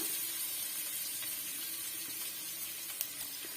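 Steady sizzling hiss of chopped onion frying in hot oil, constant throughout with a couple of faint pops, no talking.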